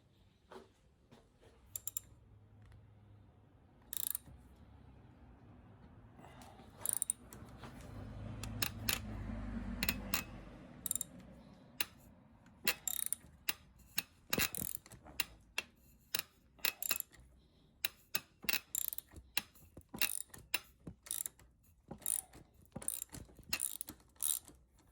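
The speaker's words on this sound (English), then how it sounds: "Got an 8mm hex socket. Get that in there and start cranking on it till it pops off." A hand ratchet fitted with an 8mm hex socket works loose the crank bolt on a 1989 Miyata SportRunner bicycle, giving bursts of quick close clicking, then a steadier run of sharp ratcheting strokes toward the end.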